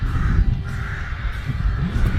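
Crows caw repeatedly at a moderate distance over a low, steady rumbling background.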